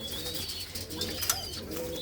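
Pigeons of an old pure large breed, with light yellow eyes, coo and chirp continuously inside an aviary, a close, steady murmur of calls with occasional wing flutters.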